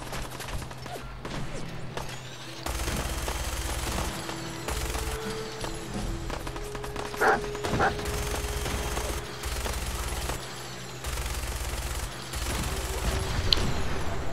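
Fallout 4 combat: bursts of rapid gunfire alternate with heavy booming blasts, loud and close, with repeated pulsing fire and sharp impacts throughout and no talking.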